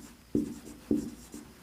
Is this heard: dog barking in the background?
no